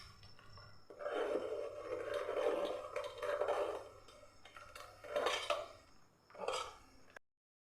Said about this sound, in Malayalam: ഇനി ഇതൊരു തവി വെച്ചിട്ട് നമുക്കൊന്ന് നല്ല പോലെ ഒന്ന് അരിച്ചങ്ങ് എടുക്കാം